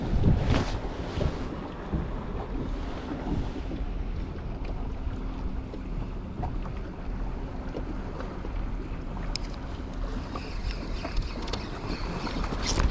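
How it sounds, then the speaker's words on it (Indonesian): Strong wind buffets the microphone out on the open sea during kayak fishing off Malaysia, a loud, steady roar with water and wave wash underneath throughout, no voices. "Angin boleh tahan kat ni."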